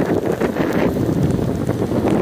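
Strong wind buffets the microphone in a constant low roar with gusty rumbles and no voices.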